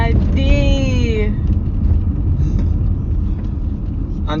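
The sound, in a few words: car driving, interior rumble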